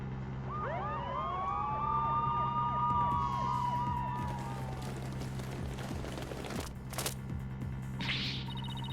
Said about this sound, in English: Mr. Wright, there are police cars outside.